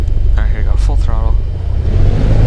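An aircraft engine at full throttle in a homemade flight simulator game makes a loud, steady low rumble, with a voice speaking briefly over it.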